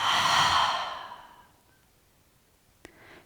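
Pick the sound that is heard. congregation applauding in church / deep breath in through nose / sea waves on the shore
deep breath in through nose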